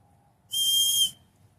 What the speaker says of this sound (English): Little wooden whistle.